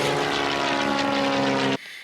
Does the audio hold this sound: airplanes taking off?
yes